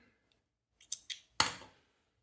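Scissors snip through crochet yarn on a small amigurumi Halloween mushroom. There are a few quiet, close metallic snips, then one sharper final cut, all in near silence.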